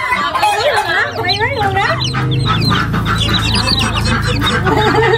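Hens and roosters on a large Vietnamese chicken farm cluck and squawk loudly and continuously at close range, with rapid overlapping calls, while people talk over them.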